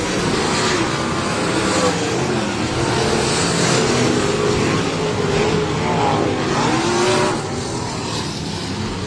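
Sprint cars race at Heart O' Texas Speedway in a Bandit Outlaw Sprint Series event, a loud, steady roar of several engines revving and droning together for the whole stretch, with no talk over it.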